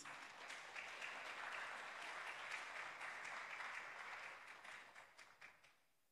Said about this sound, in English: We want to hear your applause, please.